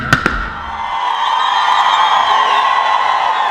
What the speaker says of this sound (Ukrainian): завершився виступ популярних музикантів феєрверком та вдячними і гучними вигуками фанатів